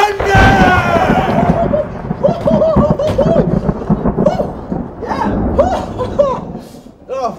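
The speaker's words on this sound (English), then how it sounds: "Thunder!" Loud thunder effect in a live stage parody musical of Kingdom Hearts: a broad, rumbling crash at the start that rolls on under sung and shouted voices and stage noise.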